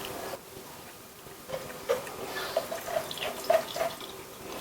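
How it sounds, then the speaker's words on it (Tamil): Blended buttermilk trickles and drips through a strainer, with soft splashing and intermittent plinks growing busier, close and fairly quiet. "இப்போ இதை வடிகட்டிக்கலாம்."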